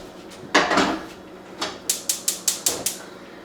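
A pot of apples is set down on a stove, giving a loud metallic clunk followed by a series of sharp, evenly spaced clicks, likely the burner igniting, close and alone.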